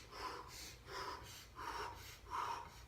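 Four rhythmic, breathy exhalations, evenly spaced about half a second apart, from a person doing a slow Systema sit-up, each breath close and fairly soft, with no talking.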